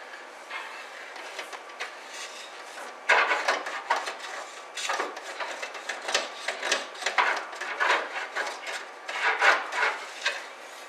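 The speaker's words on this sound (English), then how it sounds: "I'm going to stick this down in there one more time and scrape it." A rod scrapes around inside the fuel tank of a 1969 Lincoln Mark III, making faint, irregular rasping and rubbing strokes that get busier and louder in the second half.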